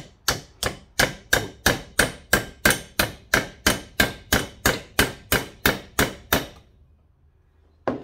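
Steady hammer blows on a battery cable lug being bent into shape, about twenty sharp metallic strikes in an even rhythm, loud and close, then a pause and one final hit.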